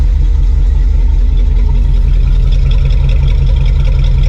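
An engine idling with a new Evil Energy performance carburetor, a loud, steady, rumbling drone that runs smoothly and continuously throughout with no voices.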